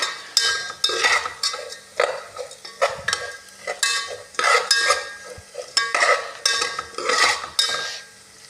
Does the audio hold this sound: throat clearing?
no